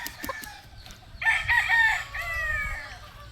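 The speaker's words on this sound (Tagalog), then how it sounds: "gwapong manok talaga" A gamecock named Tornado Gilmore crows once, a loud close drawn-out cock-a-doodle-doo rising and then trailing off, with faint low background rumble and no talk.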